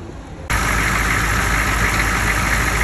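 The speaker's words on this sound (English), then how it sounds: "go ahead and start it up and check" A CUCV M1028 truck engine catches after a brief quiet moment and settles into a steady, loud, even idle close by.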